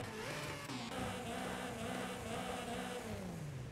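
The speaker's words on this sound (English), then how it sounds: "a bit of engine noise there" A Mazda 323 GTR engine in Forza Horizon 5 hums and revs steadily, its pitch rising and falling in smooth sweeps, heard faint and continuous with no voices.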